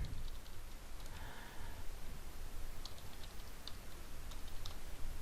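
Typing on a computer keyboard while entering a password, a run of light, uneven key clicks close by with brief pauses, alone without talk.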